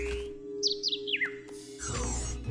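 A cartoon bird chirps in the animated series PJ Masks, giving four quick descending tweets over a low background hum, followed by a burst of other soundtrack noise.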